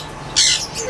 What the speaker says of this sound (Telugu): ఇవి స్మాల్ కనూర్స్ అండి